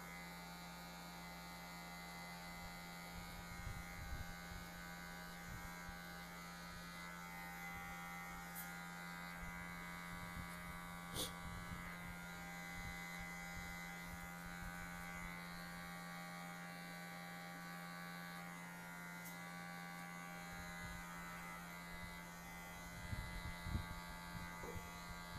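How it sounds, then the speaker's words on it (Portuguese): An electric finishing hair clipper buzzes steadily while shaving a drop fade, a constant close, quiet hum with faint brushing and tapping over it the whole time. "depois eu vou passar a maquininha de acabamento para deixar ainda mais raspado"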